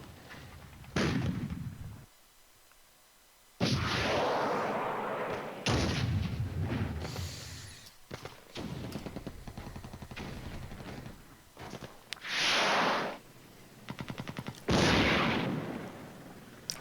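Incoming enemy gunfire and artillery in the Cold War strategy game Flashpoint Germany, with loud, broad bursts and booms that come in clusters, a short silent gap, then more heavy blasts and rattling fire.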